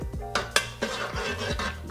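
Utensil stirring a pot of simmering water with a splash of vinegar into a vortex, giving close, irregular clinks and scrapes against the pot over a steady bubbling hiss.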